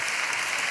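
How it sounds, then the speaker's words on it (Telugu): Clapping from a church congregation during a Telugu Christian sermon in Hyderabad, steady and dense, filling the whole moment with no voices over it. "పెద్దగా చప్పట్లు కొడితే యేసయ్యకు స్తోత్రాలు చెప్దాం."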